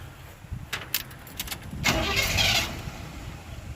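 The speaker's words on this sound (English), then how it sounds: "let's fire it up and see what it sounds like" Carbureted Chevrolet 350 V8 car engine cranking and trying to start, starter whirring with rough surges, close and fairly loud, then falling back.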